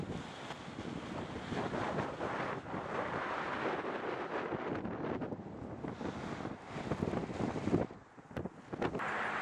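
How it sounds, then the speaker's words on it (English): Strong wind on top of the largest mound at Cahokia buffets the microphone in continuous gusts, rumbling and roaring, briefly easing near the end before picking up again. "So it's a little bit windy."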